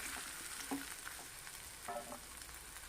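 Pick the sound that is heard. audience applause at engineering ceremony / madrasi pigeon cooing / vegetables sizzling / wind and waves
vegetables sizzling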